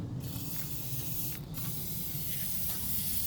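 Degreaser sprayed over the engine of a 1967 Lincoln Continental, a continuous fairly faint hissing spray with two short breaks, heard close with no talking.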